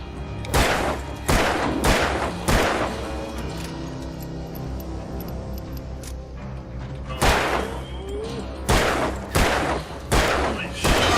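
Repeated gunfire in the video game Alan Wake, loud bursts of shots in two clusters separated by a quieter stretch, with a voice reacting in between.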